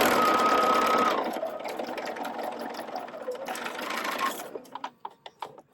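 A sewing machine stitches quilt fabric for heart quilt blocks, a fast steady mechanical whir up close that slows and stops, then leaves a few sharp clicks.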